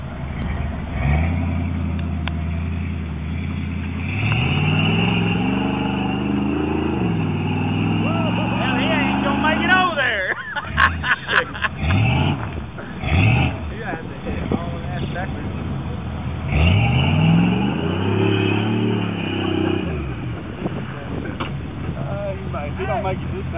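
A Suzuki Jimny off-road vehicle's engine revving while stuck, rising and falling in loud repeated sweeps, with a burst of clattering in the middle and voices talking underneath.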